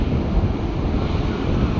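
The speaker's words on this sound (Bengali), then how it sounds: "সমুদ্রের জোয়ার দেখতে। বাপ রে, সমুদ্রের কি উচ্ছ্বাস!" High-tide sea waves surge onto a beach at night, a dense continuous roar of surf mixed with wind buffeting the microphone, loud and close, with no voices.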